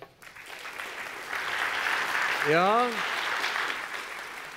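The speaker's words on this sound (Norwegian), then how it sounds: "Vi gir dem en applaus." Audience applause at an Arendalsuka 2016 panel on the green shift and Norwegian industry, moderate and sustained clapping swelling slightly mid-way, with a brief spoken word and a pitched voice-like sound over it.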